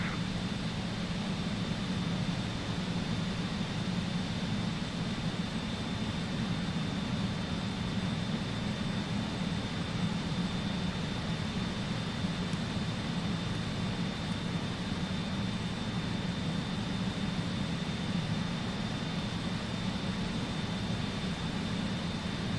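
RJ Professional regional airliner at cruise in Microsoft Flight Simulator, flying from Vancouver to Seattle: a steady, unbroken jet engine drone with a broad low rumble and a faint high whine, constant in level throughout.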